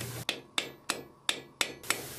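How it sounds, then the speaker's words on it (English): Light hammer blows set a rivet cut from a common nail on an anvil during blacksmith work on a spring latch, seven sharp ringing taps in a steady, fairly quick rhythm, close and clear with no talk. "I'm going to use very light hammer blows to start setting the rivet."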